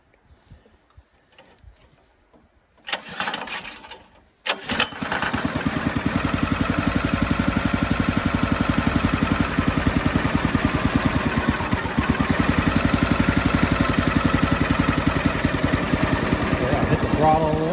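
A Harbor Freight sawmill engine is pull-started with a couple of rattling cord yanks, then catches and settles into a steady, loud, chugging idle that runs continuously close by.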